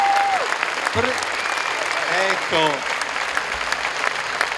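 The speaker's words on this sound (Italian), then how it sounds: "che bell'applauso Santo Padre" Crowd of pilgrims applauding the Pope during the Macerata–Loreto pilgrimage, a steady dense wash of clapping with a few voices speaking over it.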